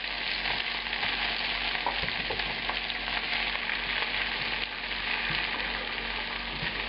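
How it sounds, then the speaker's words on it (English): Mushrooms fry in oil and veal juices on high heat, a constant dense sizzle with occasional small pops, steady and close throughout. "Now we've got a lovely amount of oil and veal juices to cook our mushrooms in."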